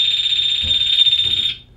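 A sump pump high water alarm sounds as a loud, continuous high-pitched electronic beep that holds steady for about one and a half seconds and then cuts off, with faint low thumps beneath it.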